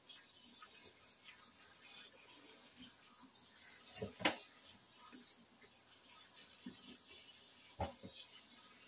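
Pickling cucumbers are rinsed under a kitchen sink faucet: a quiet, steady stream of running water with a few soft knocks and splashes as the cucumbers are handled.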